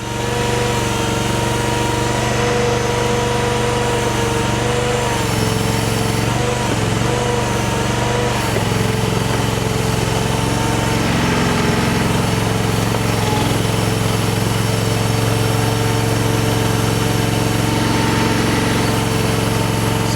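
Skid steer engine running steadily and loud throughout while it grades a yard with a land leveler, a continuous close drone with slight shifts in pitch and no talking.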